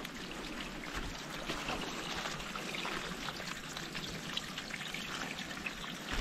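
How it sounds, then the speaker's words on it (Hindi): Water from a mountain spring on a Himalayan trek in Kinnaur, Himachal Pradesh, flows and splashes in a steady, soft, continuous rush with no voices. "पहाड़ों में पानी का स्रोत देखिए आप कैसे होते हैं"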